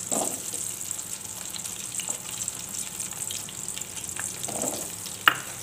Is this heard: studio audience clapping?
no